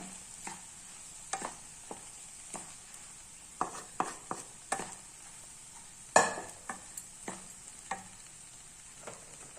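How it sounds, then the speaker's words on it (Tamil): Vegetable fried rice being stirred and tossed in a pan with a wooden spoon: quiet background sizzle broken by repeated soft knocks and scrapes, with one louder clatter midway. "மரக்கரண்டி வச்சு கலந்து விடுங்க இல்லைன்னா வந்து சாதம் உடஞ்சிடும்"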